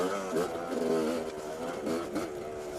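A two-stroke motorcycle engine revs and whines while riding, rising and falling in pitch through a couple of throttle swells, close and fairly loud.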